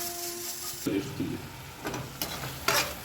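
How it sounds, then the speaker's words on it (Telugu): Masala frying in oil in a pan, a soft sizzle broken by several short bursts of stirring and scraping, close and moderately loud. "ఇది ఆయిల్ బాగా బయట వచ్చేంత వరకు బాగా వేగాలండి."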